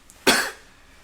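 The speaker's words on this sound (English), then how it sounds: "Sneezing and coughing." One sharp cough from a person comes close and loud, then trails off into quiet room tone.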